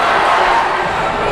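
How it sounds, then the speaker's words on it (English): A high school basketball crowd roars at a Division 3 Final Four game between Conant and Kearsarge, a loud, continuous wash of cheering and yelling that fills the gym. "The Kearsarge crowd is going crazy."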